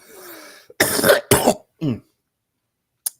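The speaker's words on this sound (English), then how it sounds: "Sir coughs a lot." A person coughs several times in quick, harsh bursts close to the microphone, followed by a short final cough after a pause.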